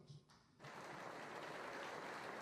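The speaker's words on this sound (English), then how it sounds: "His comments won him applause from leader Yasser Arafat and the Assembly." An assembly of Palestinians applauds a speech, with Yasser Arafat present: a brief pause, then a sudden broad, steady wash of clapping from a large audience, heard from a distance and sustained to the end.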